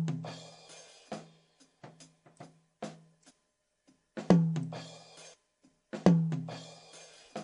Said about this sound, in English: So we'll solo this tom.